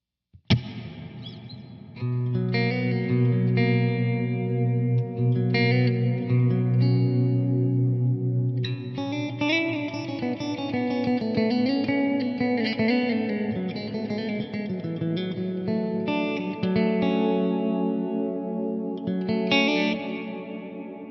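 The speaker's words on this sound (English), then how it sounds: "with a really thick ambient reverb, that clean setting is just divine." A clean electric guitar plays sustained chords and slow melodic lines, bathed in a thick, lush reverb that lets each note ring and blur into the next.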